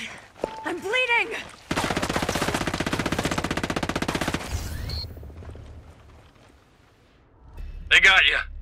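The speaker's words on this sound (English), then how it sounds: "I hear gunfire." In the video game Ghost Recon Breakpoint, a long, rapid burst of automatic machine-gun fire rattles loudly for a few seconds. Shouting voices come before it, and further voices follow after a quieter stretch.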